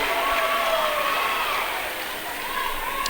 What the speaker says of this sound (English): That livens up the crowd.